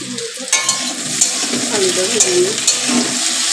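Poppy seeds being stirred in a hot pan, a steady bright sizzle of frying with scraping of a spoon against the pan and occasional light metallic clinks, close and continuous.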